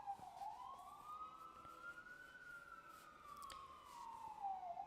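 A police or emergency vehicle siren sweeps past at a distance in one long, slow wail that rises and falls, faint but clear over low traffic rumble.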